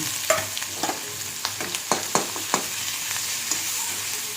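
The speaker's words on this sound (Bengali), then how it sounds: "আদা দেওয়ার পরে একটু নাড়াচাড়া করব" Ginger fried and stirred in a pan with whole cumin, black pepper, chilli and a bay leaf, giving a steady sizzle broken by a string of sharp scraping clicks from the spoon, close and fairly loud.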